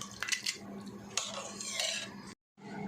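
Boiled potato and soaked sabudana are stirred together in a cooker, giving close, soft scraping and clinking of a utensil against metal, then a brief silence.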